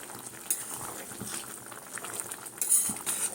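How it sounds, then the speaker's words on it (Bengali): Chicken curry simmering in an uncovered pot with whole garam masala, a soft steady bubbling with faint clinks of utensils, no voices. "এবারে ঢাকনাটা খুললাম, খুলে একটু এইভাবে ফুটতে আছে"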